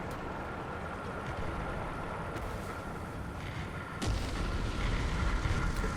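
Tank cannon fire in War Thunder from a Soviet T-80 light tank, a heavy boom cutting into a steady roar of engine and wind noise, close and loud, no talk.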